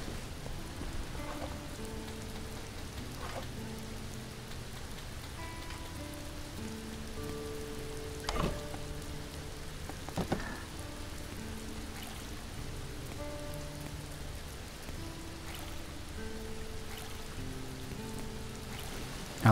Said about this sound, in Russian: Пока дождь льется, пусть набирается.